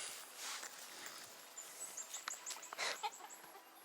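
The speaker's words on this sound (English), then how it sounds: "All the chickens." Several chickens cluck in short, irregular bursts, faint and fairly close, outdoors in a garden setting in Vietnam, with no talking over them.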